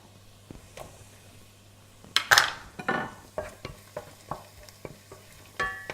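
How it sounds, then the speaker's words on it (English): Onions for a ginger, carrot and coriander soup cook in a pan, with a run of distinct stirring scrapes and utensil knocks over a faint sizzle, close and fairly loud, no talk. "you have to take your time to soften the onions"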